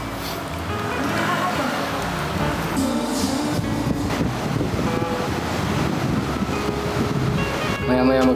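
Ocean surf rolls onto a beach at San Juan, La Union, a continuous loud wash of breaking waves mixed with gusty wind buffeting the microphone, no talk heard.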